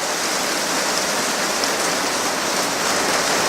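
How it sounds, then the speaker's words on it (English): Steady rain falling in a rainforest, a dense even hiss of drops on surfaces that stays constant throughout, fairly loud and without voices. "listening to the soothing sounds of the rain"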